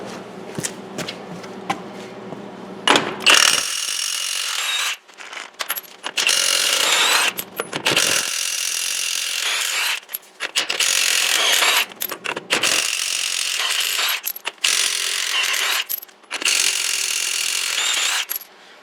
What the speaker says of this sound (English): All right, last lug nut on this side.